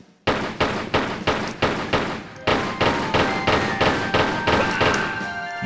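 Pistols fire at guards in the Tomb Raider 3 video game, a rapid, evenly spaced string of about a dozen loud, close gunshots with only a brief gap partway through and no talk.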